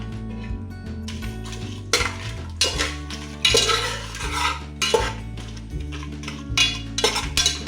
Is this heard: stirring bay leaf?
yes